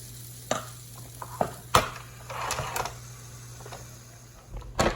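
Zucchini cakes crackle and sizzle in hot olive oil, with sharp spatter pops and scraping clicks scattered over a low steady hum.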